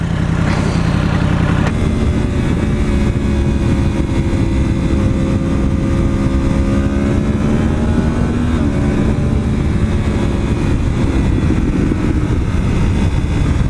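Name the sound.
Yamaha R1 motorcycle with Akrapovic GP slip-on exhaust revving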